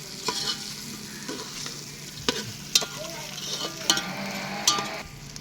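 Chicken curry with tomato and green chilli stirred in a pot, with a soft frying sizzle under repeated scraping and clanking strokes of a spoon against the metal, close up and without speech.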